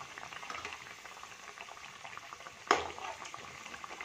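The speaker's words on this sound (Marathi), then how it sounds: "दोन्ही साईडनी यांना छान भाजून घ्यायचे आहेत, तेलामध्ये फ्राय करून घ्यायचे आहेत." Fenugreek fritters (methi vade) frying in oil, a soft continuous bubbling sizzle with one brief louder crackle midway, faint and close.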